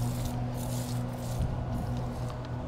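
Steady hiss of a Foam Pro 2 foamer spraying diluted Road Kill bug remover onto a car's paint and hood, continuous and fairly close over a low mechanical hum, with no talking.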